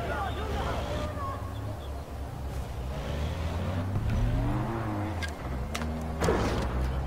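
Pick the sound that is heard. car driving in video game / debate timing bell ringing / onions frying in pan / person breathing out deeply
car driving in video game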